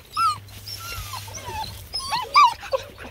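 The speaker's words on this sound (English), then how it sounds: "Hey, beautiful puppies." Black and tan coonhound puppies whimper close by in a shaded spot, with several high, thin whines and yips rising and falling in short bursts and a low steady hum beneath.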